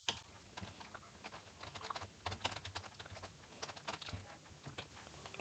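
Rapid, steady typing on a computer keyboard while entering a hospital billing statement into an Excel spreadsheet, with close, dense clacking keystrokes running continuously with no voices.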